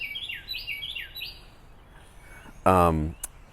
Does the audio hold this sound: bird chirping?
yes